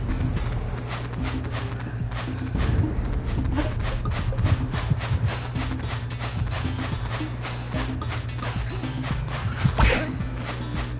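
Cow hooves clattering while herding cows in the video game Jak and Daxter, a busy stream of clip-clopping steps over a constant low game soundtrack.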